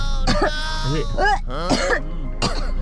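Several rough coughs come in short bursts, close and loud, over a steady low hum.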